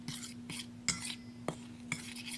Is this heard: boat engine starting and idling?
no